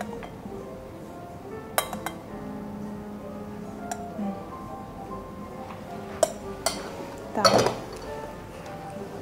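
A spoon clinking in a bowl while whipped egg white is folded into a cream, with scattered light clinks and one louder scrape-and-clatter near the end, heard under sparse talk and background kitchen noise.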